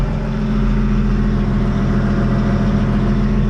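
A big 480-horsepower diesel engine of a forage harvester runs steadily at a deep, throbbing idle, loud and close, with no pauses or voices.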